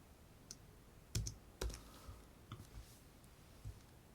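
Keys struck on a computer keyboard while entering instructions into an LGP-30 simulator: a handful of sparse, separate clicks and taps with pauses between them, fairly close and quiet, with no talking.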